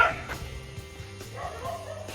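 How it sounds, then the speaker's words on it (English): Dogs bark and yip during an early morning walk past stray and domestic dogs, a few sharp barks at a middle distance, with some whimpering between them. "These dogs right here"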